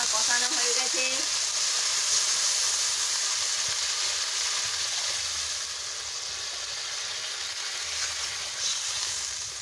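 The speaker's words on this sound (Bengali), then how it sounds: "এবারে টকবক করে ফুটছে" Kalbosh fish curry with its spice base and added water cooks in a pan, giving a steady close hiss and bubbling that eases slightly partway through, with a faint tonal whine at the start.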